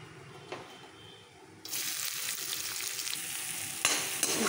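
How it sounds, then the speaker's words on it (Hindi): Onions fry in hot oil with bay leaf, asafoetida and cumin in a pan, quiet at first, then a sudden loud sizzle kicks in and holds steady with occasional stirring scrapes. "फिर से भूनेंगे प्याज को।"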